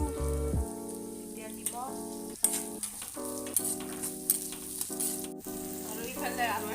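Onions frying in oil in a home kitchen, a bright continuous sizzle over sustained background music, with a brief spoken voice.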